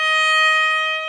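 A violin holds a single clean, bright sustained note from start to end, solo, steady and close, with no talking.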